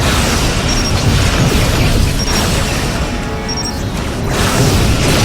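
Photon torpedoes fire and explode in the Star Trek Legacy space combat game, a loud continuous rumbling barrage of booms and blasts with no break and no speech.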